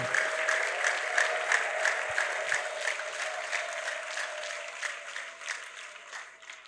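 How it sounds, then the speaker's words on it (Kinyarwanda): A church congregation applauding together, steady rhythmic clapping held at moderate loudness throughout with a faint crowd murmur beneath. "Muyikomere amashyi yumva uko imererwa."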